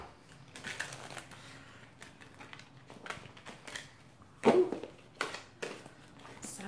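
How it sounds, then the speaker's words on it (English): Stiff cards being shuffled and tapped in uneven bursts, fairly quiet and close, with a few sharper snaps of cards hitting together. "Deck is kind of hard to shuffle."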